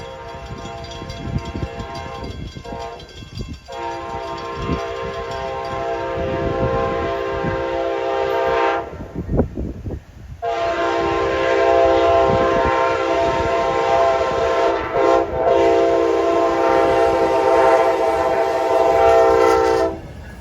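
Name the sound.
freight and passenger trains passing with horn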